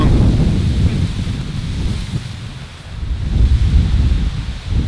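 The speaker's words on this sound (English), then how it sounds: "That wind comes traveling down the canyon and sometimes it gets pretty strong." Strong wind rushes down a canyon at a mountain camp, a steady loud roar buffeting the microphone with gusts swelling and easing, no voices.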